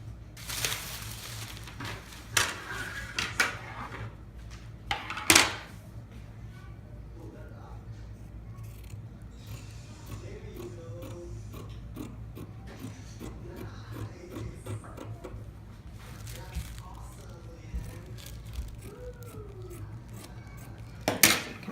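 Scissors cut through fusible fleece fabric during tote bag sewing, giving a steady close rasping, crunching snip sound. Several sharper snips stand out, and faint talk is heard now and then.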